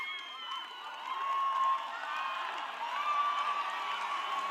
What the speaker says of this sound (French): Acclame pour Jésus. Clap for Jesus.